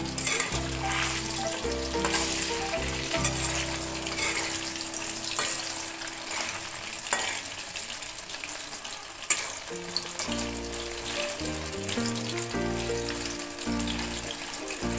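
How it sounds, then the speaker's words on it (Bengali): Chicken pieces frying in hot oil give a continuous loud sizzle with occasional stirring and scraping, while background music plays throughout. "একটু লাল লাল করে ভেজে নেব।"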